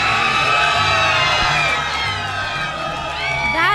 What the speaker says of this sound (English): Turn around and get these people to cheer.